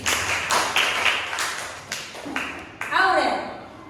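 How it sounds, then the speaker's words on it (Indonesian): A classroom of students claps for a classmate during a lesson, a brief scattered round of hand claps near the start, then a teacher's voice speaks over a quieter room. "Tepuk tangan untuk April."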